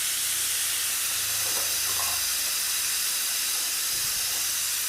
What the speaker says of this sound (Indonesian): caranya adalah kita tarik tuasnya biar uapnya keluar. Dan ini akan berisik banget.